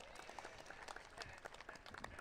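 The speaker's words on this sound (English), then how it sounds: "How about a round of applause for" Crowd applause for a champion jockey at Canterbury Park racetrack, steady dense clapping from a sizeable audience, fairly distant and soft, with a few voices mixed into the ovation.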